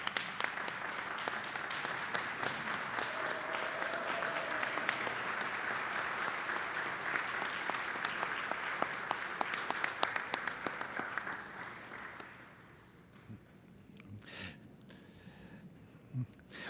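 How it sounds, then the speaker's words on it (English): A large crowd at a college commencement ceremony applauds the graduates, a dense, steady roar of clapping that holds for about twelve seconds before thinning into scattered claps and faint murmurs. "applause"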